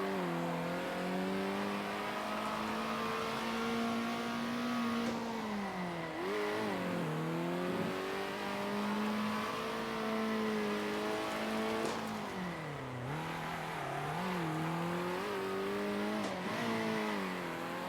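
Race car in the Circuit Superstars racing game, a constant droning engine note that rises and falls in pitch as it accelerates and shifts through corners, quiet and steady with no voices.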